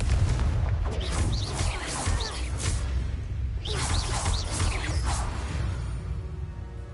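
A Confringo spell blast in the video game Hogwarts Legacy: bursts of booming, crackling impact over a constant low rumble, with two distinct clusters of sharp hits separated by a few seconds.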